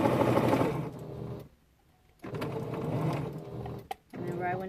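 Sewing machine stitching a quilted mug rug, a steady close mechanical whir that runs, halts for about a second, then resumes, with a person talking over it.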